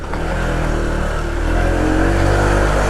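A motorcycle climbs a steep shortcut road near Antipolo in the Philippines, its mid-pitched engine holding a steady, strained drone throughout with no talking.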